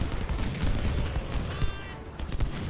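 Cannon and artillery fire from Civil War–era guns in the strategy game Ultimate General: Civil War, a dense rumble of booms and distant gunfire crackling continuously, with scattered louder thumps throughout.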